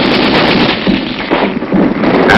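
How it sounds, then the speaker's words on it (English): Rapid bursts of gunfire crackle through a Vietnam War firefight, dense overlapping shots filling the short stretch with no pauses or voices. "a violent firefight broke out immediately"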